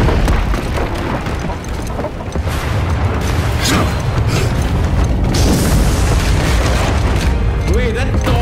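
A bomb explodes in the PS5 video game God of War, with dense, loud rumbling booms and debris sustained throughout, and a voice talking over it.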